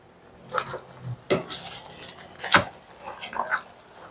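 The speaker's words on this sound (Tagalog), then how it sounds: "Para halu-haluin ko muna." A spoon scraping and clinking against a pot as ginataang langka, jackfruit simmered in coconut milk, gets stirred: a few scattered metallic knocks and scrapes at irregular intervals, close up, with a quiet kitchen background.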